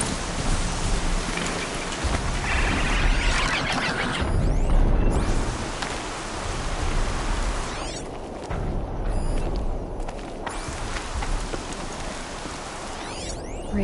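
Heavy rain in the video game Horizon Zero Dawn pours steadily and close, a dense hiss with scattered drops pattering on surfaces and a faint low rumble.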